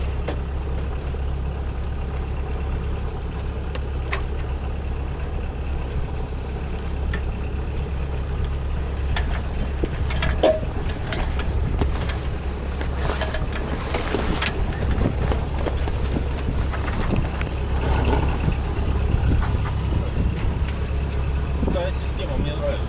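A sailing yacht's engine runs steadily while motor-sailing, a constant low drone with water and wind noise and occasional knocks on board, continuous and fairly close, with no clear speech over it.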